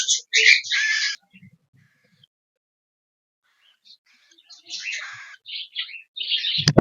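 Cockatiels give bursts of harsh, raspy calls, loud and close, separated by a long quiet stretch before several more squawks.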